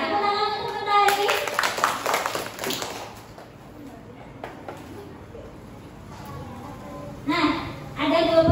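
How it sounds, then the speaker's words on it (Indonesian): Students in a classroom clap for a classmate in a short, uneven burst that fades after a couple of seconds, with children and a teacher talking around it. "Tepuk tangan untuk Mentari"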